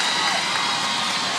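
A packed high-school basketball championship crowd in a gym cheers and shouts loudly and continuously, a dense unbroken roar of voices with children's shrieks mixed in.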